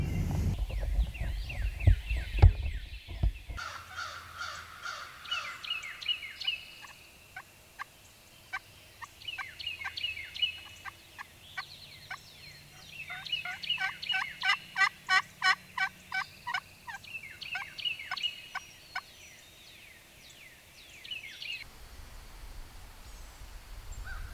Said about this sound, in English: Birds are starting to go on top of this mountain.